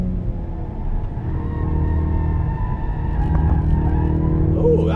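A Mountune-tuned Ford Focus RS sustains a loud, steady engine drone from inside the cabin as it runs on a race track, with a brief squeal near the end.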